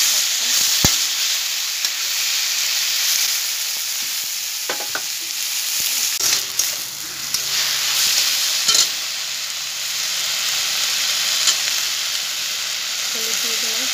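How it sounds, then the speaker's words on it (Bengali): Jute leaves fry with salt and green chili in a hot pan, a continuous close sizzle and hiss broken by occasional clatter and scraping of a stirring spoon. "কাঁচা লঙ্কা দিয়ে দিলাম, একটু কষিয়ে নিয়ে ভালো করে শাকটা।"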